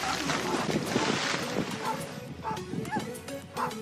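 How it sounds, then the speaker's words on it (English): A small dog barks sharply in short bursts at a group of six seals on a windy shoreline, the yaps mixed with gusting wind noise and faint voices nearby. "when a small dog ran into 6 seals,"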